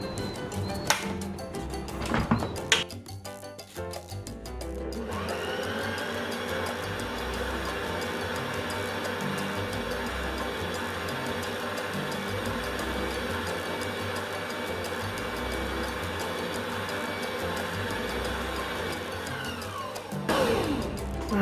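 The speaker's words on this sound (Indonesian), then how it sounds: "kita mixer lagi ya supaya rata ya" An electric mixer whips bika ambon batter. A few seconds of clatter and knocks lead into a steady, droning whir that lasts about fifteen seconds before it stops.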